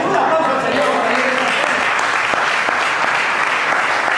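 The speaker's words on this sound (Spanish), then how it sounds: "un aplauso al Señor." A church congregation breaks into loud, steady applause during a service, with a voice speaking over the clapping early on.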